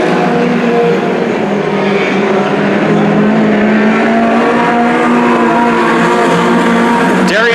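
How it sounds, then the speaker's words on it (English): Mini stock race cars roar around the Petaluma Speedway oval, a loud continuous blend of several engines droning and shifting pitch, with a sweeping rise as one passes near at the end. "Down the backstretch and into turn 3 goes Darien Balestrini with a huge lead of 4 seconds over Bob Davis."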